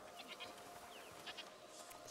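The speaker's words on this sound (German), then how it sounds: "Was ist da drüben? Ziegen." Goats bleating in the video game A Plague Tale: Requiem, several short bleats scattered over a quiet ambient background, faint and somewhat distant.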